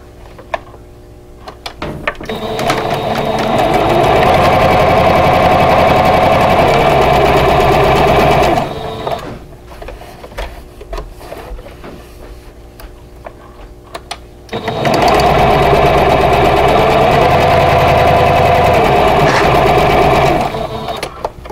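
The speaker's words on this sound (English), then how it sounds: "now I'm going to sew a quarter inch away from both sides of that drawn line." Sewing machine stitching quilt fabric a quarter inch from a drawn line, running in two steady, loud, continuous bursts of whirring stitches separated by a quieter pause.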